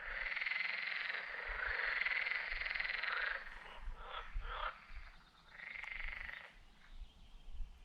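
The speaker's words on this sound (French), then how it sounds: "Les grenouilles se sont réveillées d'un coup." Frogs croaking outdoors in a chorus that swells and breaks off, long sustained bursts of raspy calls with brief pauses between, moderately distant and alone without talk.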